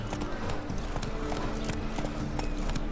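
Hooves of Roach, Geralt's horse in The Witcher 3: Wild Hunt, clip-clop in a steady trotting rhythm through the streets of Novigrad, fairly close and continuous over game ambience.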